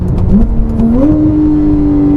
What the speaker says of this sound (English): You get this really satisfying pop, almost like an explosion on every single upshift.